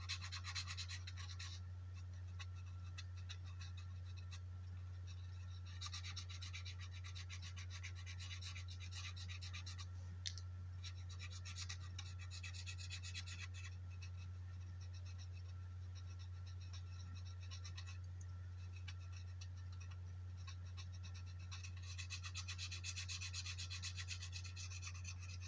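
A red paint marker rubbed over a metal part of a Lionel #60 trolley, soft close scratchy rubbing strokes in irregular bursts over a constant low electrical hum.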